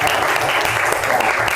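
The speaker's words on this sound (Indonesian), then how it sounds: "tepuk tangan untuk kita semuanya biar semangat" Dense, steady applause fills a school gathering at a modern digital Islamic high school in Semarang, with loud, continuous clapping from many people and no break in the sound.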